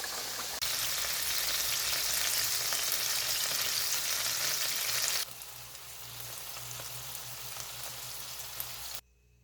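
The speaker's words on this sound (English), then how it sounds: "so I'll just fry my French fries" French fries fry in reused oil, giving a loud, dense, continuous sizzle that drops to a softer bubbling partway through before cutting off near the end.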